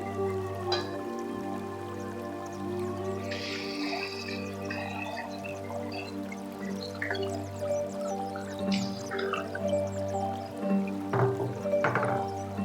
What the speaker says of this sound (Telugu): రైస్ ఎంతో అంతే నీళ్ళు వేయాలి, ఎక్కువ వేయకూడదు